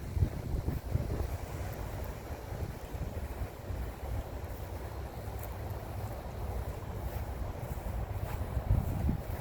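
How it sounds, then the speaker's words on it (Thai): Cool wind blowing through trees at a rest area, a steady broadband rush with low rumbling gusts that swell slightly toward the end, no talking. "ลมเย็นๆพัดกินไม้"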